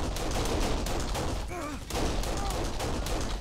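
Sustained submachine gun fire in the video game Kane and Lynch, a dense rattling burst that runs nearly the whole time, briefly easing in the middle before resuming loud, with faint voices underneath.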